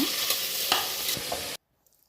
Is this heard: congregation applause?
no